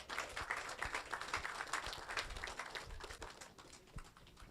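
An audience at a tour of an international airport project applauds with steady, dense clapping, moderately loud and continuous for several seconds.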